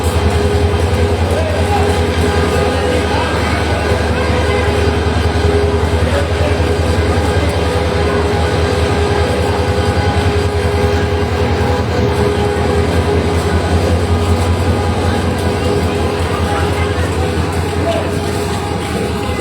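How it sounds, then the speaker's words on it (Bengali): A Jamalpur Commuter train packed with passengers pulls into platform 4 at Kamalapur railway station in Dhaka, giving a loud, steady rumble and rattle throughout, with voices talking over it. "দর্শক যে ট্রেনটি প্রবেশ করেছে সেটি জামালপুর কমিউটার, সেই জামালপুর কমিউটারে বিপুল সংখ্যক যাত্রী নিয়ে এই কমলাপুর রেল স্টেশনের 4 নম্বর প্ল্যাটফর্মে প্রবেশ করেছে"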